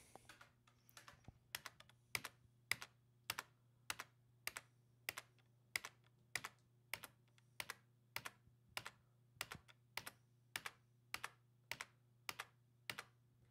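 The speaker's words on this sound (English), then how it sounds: "you're just going to keep hitting on the enter button" A computer keyboard key, the Enter key, is struck repeatedly while a Lenovo ThinkCentre M900 Tiny desktop boots: about twenty sharp, evenly spaced clicks close up over a steady low hum, with no talk.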